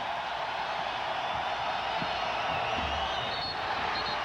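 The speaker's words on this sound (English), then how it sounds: "the crowd is alive now and urging them on" Crowd at a 1994 World Championships basketball game, Croatia versus Canada, a dense, roaring wash of cheering and whooping, steady and loud throughout.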